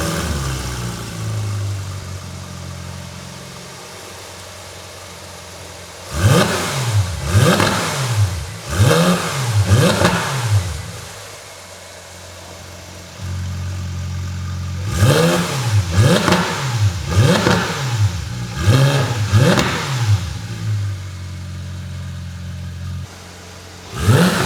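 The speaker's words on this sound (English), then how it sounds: "let's hear what this Porsche sounds like" A 2016 Porsche GT3-RS fitted with a Soul cat-back exhaust idles, then barks through two sets of sharp, rising and falling revs of several quick blips each, loud and close with no talking.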